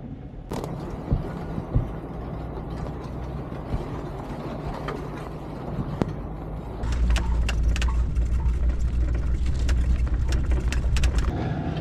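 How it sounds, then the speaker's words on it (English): Weeds scrape along the underside of an off-road vehicle as it rolls down an overgrown dirt track, producing a steady rumbling drone with scattered brushing and ticking hits that grows louder and denser partway through. "The weeds in the middle of the road, you can hear them scraping on the underside of my vehicle."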